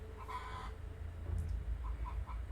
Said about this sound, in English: And yes, you are hearing chickens outside.